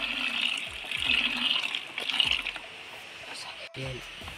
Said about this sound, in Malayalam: ഇനി അത് നമുക്ക് ഗ്രൗട്ട് ആക്കി എടുക്കാൻ അതിലേക്ക് വെള്ളം ഒഴിക്കുക.